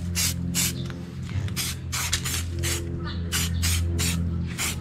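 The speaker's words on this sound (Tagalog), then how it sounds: "Okay, spray natin." Flat black Samurai spray paint hisses onto a Yamaha Sniper 155 motorcycle swing arm in about a dozen short, loud bursts, close up, with a low hum underneath.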